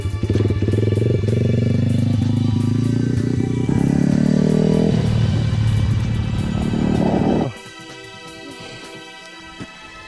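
A pit bike engine revs hard under throttle for about seven seconds, its loud buzzing pitch climbing in steps before cutting off abruptly to near quiet.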